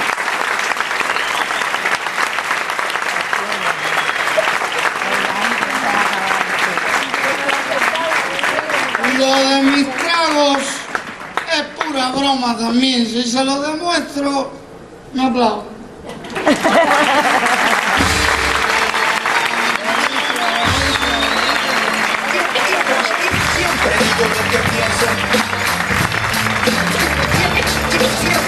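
Audience at a Cuban comedy show in the Karl Marx theatre claps and cheers loudly in a sustained, dense roar, with a voice speaking over it and a brief lull in the middle.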